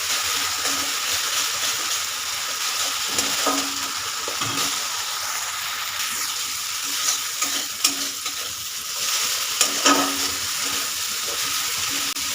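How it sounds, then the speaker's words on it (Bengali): Ginger, green chili and turmeric paste being fried and stirred in a pan for a cabbage dish, with a steady loud sizzle under repeated scraping strokes of a spoon against the pan. "মশলা একটু ভালো করে কষিয়ে নেব।"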